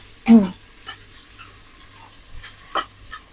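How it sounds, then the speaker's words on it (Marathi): Onion is stirred in a pressure cooker with a soft sizzle, marked by one sharp close scrape at the start and a few fainter scrapes later over a quiet hiss. "आता कांदा परतून घेऊया ना"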